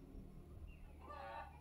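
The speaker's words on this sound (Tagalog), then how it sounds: "Do you hear a chicken?" A faint, distant chicken sound rises briefly near the end over low background noise, quiet and short.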